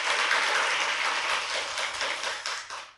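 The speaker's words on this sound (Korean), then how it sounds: "이야, 박수." A studio audience claps for a few seconds after a district mayor's remarks, a steady patter of many hands that stays fairly soft and tapers off toward the end.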